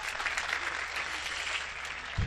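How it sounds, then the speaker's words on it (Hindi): Audience applause at a Hindi comedy poetry performance, a soft, steady patter of clapping heard from a distance, brief and fairly faint. "एक बार तालियां बजाए मन दे दोस्तों।"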